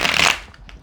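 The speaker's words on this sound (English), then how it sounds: "So I'm going to shuffle 3 times and pull from the top." A deck of tarot cards being shuffled, a dense papery riffle that is loud and close at the start, then thins into a few softer flicks and taps with no voices.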